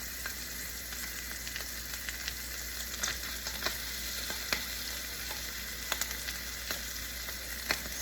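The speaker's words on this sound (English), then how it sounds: "So now while your sausages are cooking, we need the eggs." Sausages fry in a pan with a steady, close sizzle and crackle, scattered small pops spiking above the constant hiss, with no voices over it.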